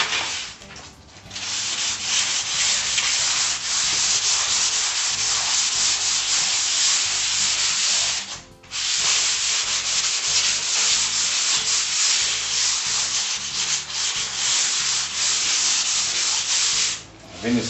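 Continuous hand sanding of a plastered EPS foam ceiling panel, a fast, steady scraping rub that runs almost unbroken, with two brief pauses between passes.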